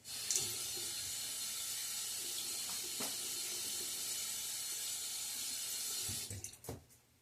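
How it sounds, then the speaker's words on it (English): A bathroom tap runs water into a sink for shaving lather, a steady close hiss of flow with a few small clunks, then the water cuts off near the end. "A little splash of water."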